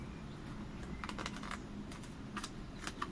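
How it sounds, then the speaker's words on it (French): Faint, quiet snips and light paper rustles as a piece of paper is cut for a collage, a few short crisp clicks scattered over low room noise. "Hop, on va couper ce morceau."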